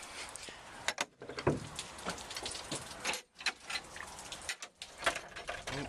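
Warm rain pours steadily outdoors, a dense continuous hiss of drops striking surfaces, with brief gaps and a few close knocks and rustles.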